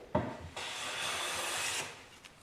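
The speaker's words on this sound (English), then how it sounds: "While you're planing, you may find some resistance." A woodworking hand plane drawn across a board in a single steady stroke, a close rasping shave about a second long with a light knock at the start.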